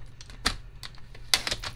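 A paper trimmer slices card stock for a handmade card, giving two sharp, close cutting strokes with soft sliding clicks around them, quiet and with no talking.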